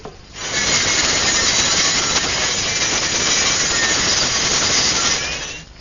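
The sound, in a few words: cutting a wooden flagpole piece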